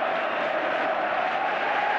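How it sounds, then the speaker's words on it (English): A dense, steady roar from a large football crowd at a Second Division match between Derby County and Fulham, chanting together in a continuous, distant mass of voices. "staying up, staying up, staying up is the cry from the baseball crowd."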